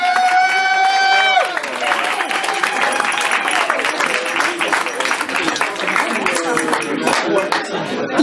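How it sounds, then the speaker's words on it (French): Audience applause at a short film festival closing ceremony, a held musical tone cuts off and lively clapping with cheers and some voices follows, continuing strongly to the end. "On l'applaudit s'il vous plaît."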